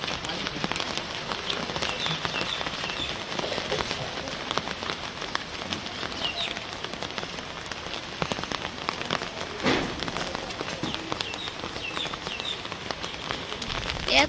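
Heavy windblown rain in a Bangladeshi village, a dense, steady downpour with scattered sharper drops hitting a nearby surface, continuous throughout with no talking.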